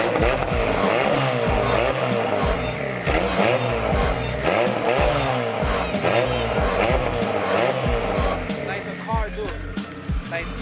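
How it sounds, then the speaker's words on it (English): A turbocharged Honda Civic engine with a new manifold runs loud and steady throughout, a continuous raspy drone with shifting pitch sweeps suggesting revving, with a voice talking faintly underneath. "you guys can hear the car sounds alive"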